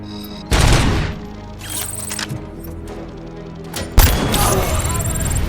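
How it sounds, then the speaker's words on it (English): A Cobra cannon fires high explosive rounds in the Robocop Rogue City video game, two heavy booming blasts with rumbling tails a few seconds apart, loud and close, amid game effects. "This is the Cobra cannon."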